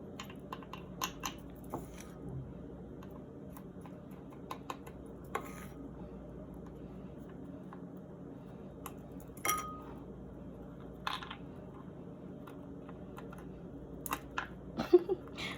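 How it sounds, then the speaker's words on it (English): Small sharp clinks and scrapes of a metal spoon against a little container while homemade scrub is scooped in, faint and scattered over a quiet room hum with no talking. "I'm going to use a spoon just to scrape it all up."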